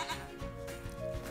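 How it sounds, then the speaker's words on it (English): Mountain goats bleat in a wavering, nasal cry that rises and falls over about a second, close and fairly loud over a steady background wash. "The mountain goats were excited to have a visitor, especially one that brought snacks."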